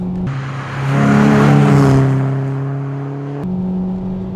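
Peugeot 206 GTI hatchback engine pulling hard in third gear on the road, a loud, steady rising drone heard up close from inside the car, with no talk over it.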